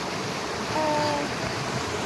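Steady rushing water of a river, a continuous broad wash, with faint wind noise and a brief thin tone partway through.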